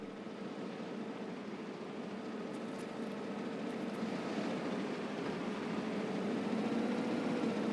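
A BTR armored vehicle engine in the Escape From Tarkov video game drones steadily at a distance, a low continuous rumble that swells slightly louder toward the end, with no talking.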